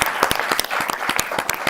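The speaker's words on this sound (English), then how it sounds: "let's get a round of applause for his mama showing up" A small audience claps in a loose, uneven round, with individual hand claps standing out sharply and close, no voices over them.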